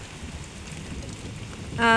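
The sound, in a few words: rain falling on a rainy morning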